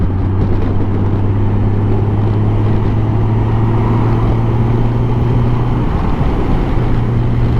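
Honda Gold Wing GL1800 touring motorcycle riding, a steady low engine drone with road and wind rumble throughout, loud and continuous without talk.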